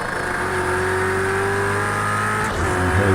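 A race car engine in a racing video game accelerates hard, a loud, steady high-pitched drone climbing through the revs, with a brief dip near the end as it shifts gear before pulling again.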